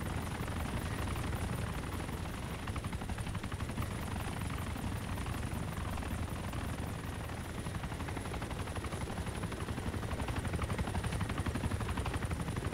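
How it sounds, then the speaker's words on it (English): A helicopter in the ArmA 2 video game spools up, its steady rotor thrum and high turbine whine running continuously at moderate distance with no talk. "I hear a chopper. Spooling. And it's spooling."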